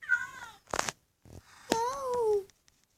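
Cats in the Minecraft video game give several short synthetic meows, one brief cry followed after a pause by a longer drawn-out meow, clear and close with no talking over them.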